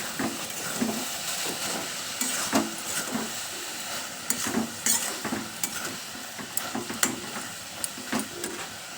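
Water lily stems and prawns stir-fry in a pan with a low sizzle, broken by frequent irregular scrapes and knocks of the spatula as the mixture is tossed.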